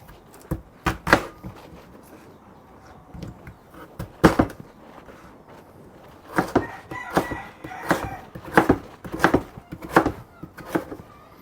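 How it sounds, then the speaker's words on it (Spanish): A knife chops potato into small pieces on a board, giving sharp irregular knocks in uneven clusters, with a rooster crowing and hens clucking somewhere in the background. "Picamos en pedacitos, ¿verdad?"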